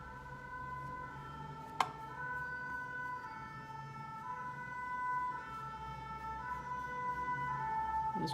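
Emergency sirens wail steadily from fire engines or police vehicles near a fire station. A sharp click cuts in early, and the tones hold and shift under continuous low road rumble.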